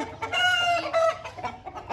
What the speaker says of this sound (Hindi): उधर मुर्गी ने भी शोर मचाना शुरू कर दिया